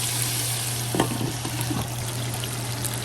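Steady, close sizzling of fish frying in hot oil, with a few soft clinks and crackles partway through.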